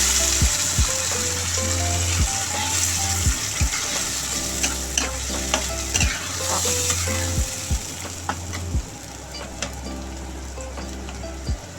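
Ground spice masala, chilli and turmeric among it, fries and is stirred in a pan for an egg, cauliflower and potato curry. A loud close sizzle runs under regular spatula scrapes and knocks against the pan.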